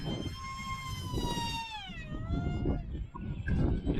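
An LED FT Arrow RC plane makes a high-speed pass at half throttle: its high electric motor whine drops smoothly in pitch as it flies by, over rough outdoor wind noise.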